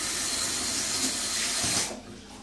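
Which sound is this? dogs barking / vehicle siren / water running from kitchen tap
water running from kitchen tap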